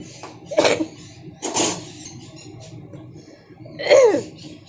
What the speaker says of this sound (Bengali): তাই ভীষণ কেশে নিলাম একটু